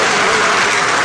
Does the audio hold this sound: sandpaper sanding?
no